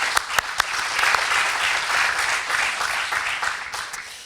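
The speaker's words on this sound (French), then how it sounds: "Je pense qu'on peut les applaudir tous." An audience at a label award ceremony breaks into applause, many hands clapping in a full, even burst with a few sharp close claps standing out, swelling and then easing off.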